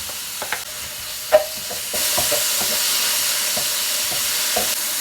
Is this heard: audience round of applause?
no